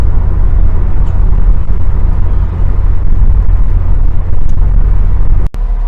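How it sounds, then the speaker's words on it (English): A 2006 Mercedes-Benz CLK 500 convertible with the AMG package accelerates on an open road, its engine and exhaust giving a loud, close, continuous deep roar that holds steady for several seconds, with no one speaking. "What an excellent exhaust note."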